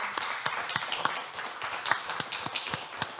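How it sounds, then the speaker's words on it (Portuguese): Audience applause at a Portuguese celebration event, sparse, fairly quiet clapping with distinct individual claps standing out over a soft steady patter. "eu gostava de celebrar vocês aqui na plateia e aqui comigo com uma grande salva de palmas"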